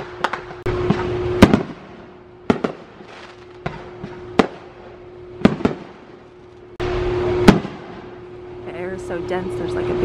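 Sharp Fourth of July fireworks blasts pop and crack at irregular intervals, some loud and close, others fainter, with a steady engine hum and brief voices underneath.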